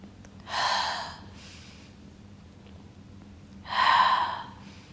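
Two heavy breaths, each a loud, airy exhale about a second long, taken during a Pilates mat exercise, separated by a quiet pause over a low background hum.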